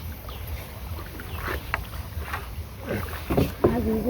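A small boat moves across open water, with soft splashes and paddle strokes over light wind noise, and voices talk faintly nearby.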